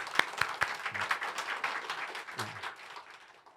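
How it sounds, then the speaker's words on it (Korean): A church congregation at an Easter thanksgiving service applauds the design team, starting with a few sharp individual claps that swell into warm, moderate group clapping and then taper off, with faint murmurs underneath. "디자인 팀에게도 한번 박수 해주시면 좋겠습니다"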